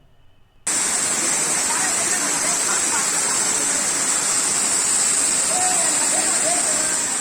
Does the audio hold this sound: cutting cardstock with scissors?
no